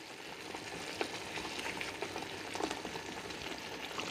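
Chicken leg pieces simmering in masala over a low-medium gas flame, a steady soft bubbling and faint sizzle with small irregular pops throughout, close and continuous without talk.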